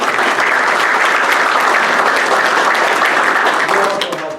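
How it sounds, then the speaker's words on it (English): Applause from attendees at a city council meeting honoring a police sergeant, a loud, dense, unbroken round of clapping that holds steady and then trails off near the close. "So a big round of applause for Chris."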